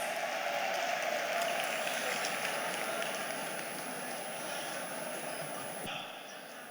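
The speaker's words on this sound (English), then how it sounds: "A round of applause for her," A crowd claps steadily, a dense wash of applause that holds strong and then slowly tapers off.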